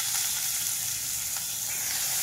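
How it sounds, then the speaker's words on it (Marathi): Onion and curry leaves sizzle in hot oil in a tempering pot, giving a loud, steady, hissing crackle that stays even throughout with no talking. "आता मी तेल घालते त्याच्यात। कांदा आणि कढीपत्ता मी घातलेला आहे फोडणीला।"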